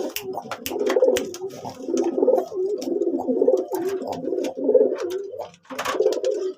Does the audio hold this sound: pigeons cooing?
yes